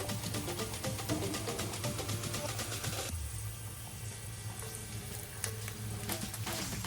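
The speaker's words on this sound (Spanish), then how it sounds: "Vamos a dejar que se doren un poquito nuestros ajos y por supuesto nuestro jengibre" Garlic and ginger frying in oil in a pan, a dense continuous crackling sizzle, loud and close, easing slightly partway through but staying steady throughout.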